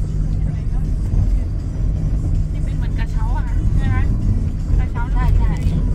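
Steady low engine rumble and road noise from inside a moving car on the drive back from ATV riding, loud and continuous, with faint voices and chatter riding over it.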